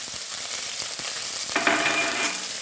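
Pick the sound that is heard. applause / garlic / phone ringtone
garlic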